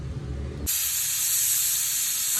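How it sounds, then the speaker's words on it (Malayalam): A pressure cooker cooking tomato pickle suddenly lets out its whistle after a moment of low stovetop rumble, a loud, steady, close hissing jet of steam that holds without a break. "ആദ്യത്തെ വിസിൽ കേട്ടു."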